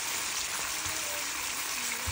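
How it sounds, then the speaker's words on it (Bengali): Koi fish frying in hot oil in a pan with a lid partly covering it, giving a steady, soft sizzling hiss with faint spattering pops throughout. "আমি একটু ঢেকে দিচ্ছি ঢাকনা দিয়ে ঢেকে দিচ্ছি, না হয় এত বেশি তেলের ছিটে আসে।"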